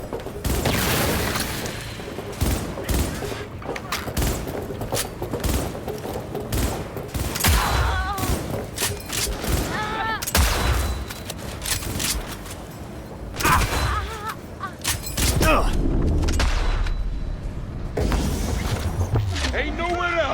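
Dense gunfire in Cyberpunk 2077, rapid bursts and booming shots ringing out almost nonstop over twenty seconds, loud and close, with shouted voices mixed into the combat.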